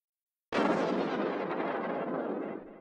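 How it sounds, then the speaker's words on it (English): Grand piano preset run through granular processing with Resonator and Aethierizer effects, bursting in abruptly after a short silence as a dense, booming roar like a bomb blast that holds for about two seconds before cutting off. "Separating each grain into a cloud of grains is now getting this grand piano preset to sound more like a bomb explosion"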